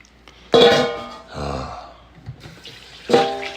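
Water is poured out for dogs in short splashing bursts with a hollow, ringing gurgle: one near the start, a softer run in the middle and another toward the end, with quiet pauses between.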